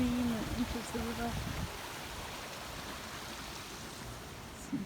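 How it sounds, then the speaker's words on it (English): A small stream flows into a river with a soft, steady rushing hiss heard from a short distance, and a person speaks briefly at the start. "Stream that enters the river."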